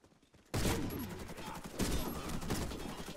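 Rapid gunfire in the online shooter Warface, a loud close burst of automatic shots crackling continuously after a brief quiet start, with a second heavier volley partway through.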